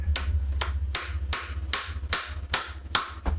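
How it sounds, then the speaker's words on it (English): A hammer taps a plastic vacuum cleaner nozzle base in a series of about nine sharp, close knocks spaced roughly every half second, each followed by a short ringing clatter. "I'm a little bit fearful of using a hammer, but I'm gonna try to be very gentle with it."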